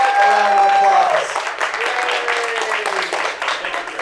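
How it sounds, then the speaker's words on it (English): Audience applause at the 2012 PodCRASH awards show, a broad steady patter of clapping from a crowd that starts strong and softens slightly, with a voice speaking over it near the start. "He deserves a round of applause."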